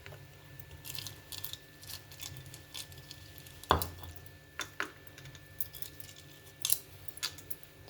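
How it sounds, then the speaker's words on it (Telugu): Ice cubes dropped into a glass of mint lemon soda: a sharp clink near the middle followed by scattered lighter taps and clicks, close and quiet with no voices. "ice cubes వేసేసుకుందామండి"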